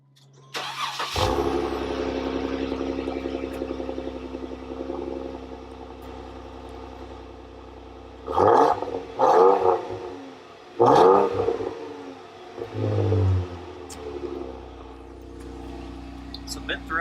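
A Jeep Wrangler JK with a RedRock dual axle-back exhaust cranks and fires up in a garage, settles into a deep steady idle, then gives several short loud throaty revs spaced a few seconds apart, close and echoing.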